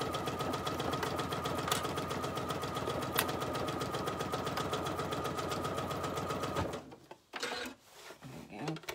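A sewing machine stitches a pocket onto a waxed canvas bag in a steady, rapid run of needle strokes, close and loud, then stops abruptly near the end, leaving quieter handling sounds.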